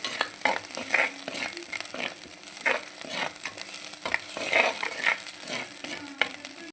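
A masala paste fries in oil for a spicy okra and fish curry, with a steady close sizzle under repeated scraping and stirring strokes of a spoon through the pan.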